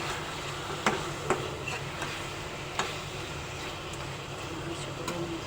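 Fish pieces drop into a pan of spice paste that is almost done frying, giving a steady sizzle with a few sharp clicks and taps of a utensil, close and fairly quiet throughout.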